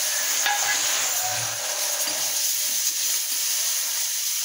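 Coconut pieces and tomato sauté in hot oil for a gavar bhaji, a loud, steady sizzle and hiss with occasional stirring scrapes, close up and with no one talking.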